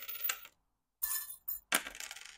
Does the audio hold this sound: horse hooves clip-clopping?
no